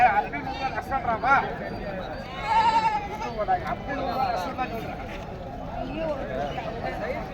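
Goats bleat repeatedly at a busy livestock market in Kambainallur, their wavering cries rising over constant crowd chatter and voices nearby.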